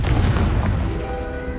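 A Confringo fire spell blast going off in Hogwarts Legacy, a loud booming burst at the start with a rumbling low tail that lingers, steady and close throughout.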